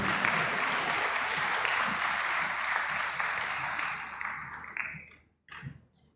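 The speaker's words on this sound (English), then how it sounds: "Clap, women." Applause from the audience at a learning center graduation ceremony, moderate steady clapping that thins out and fades away toward the end, leaving a few scattered final claps.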